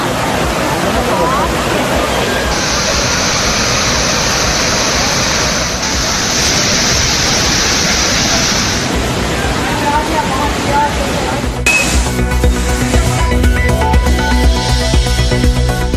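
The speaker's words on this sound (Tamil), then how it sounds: "அருவிகளில் ஆர்ப்பரிக்கும் தண்ணீர்." Water roars over the Hogenakkal waterfalls on the Kaveri river as a loud, steady rush that fills the scene, with crowd chatter mixed in and a shift in the background sound near the end.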